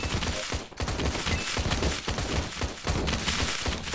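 Rapid, continuous gunfire from the horde-survival tower-defense video game Road Defense: Outsiders, loud dense bursts of shots and impacts with a brief gap, no talking over it.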